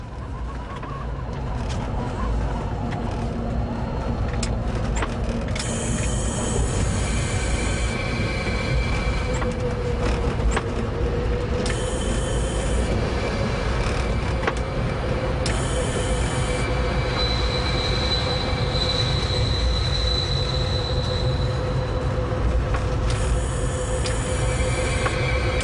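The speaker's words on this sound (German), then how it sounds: "Eine Ludmilla ist auf dem Weg in die große Halle." A Russian class 232 "Ludmilla" diesel locomotive pulls into a platform at Leipzig Hauptbahnhof in the 1990s, with steady low diesel rumble, rolling wheels and repeated high-pitched wheel squeal echoing through the large station hall.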